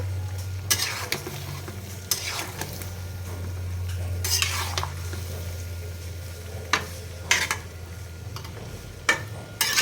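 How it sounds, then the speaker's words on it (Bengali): A spoon scrapes through olives frying for olive pickle in a pan, giving repeated sharp stirring strokes at irregular intervals over a low, steady sizzle and hum. "সেই জলপাইগুলোকে আস্তে আস্তে নেড়ে ছেড়ে দিচ্ছি নিচ থেকে নাহলে নিচে লেগে যাবে"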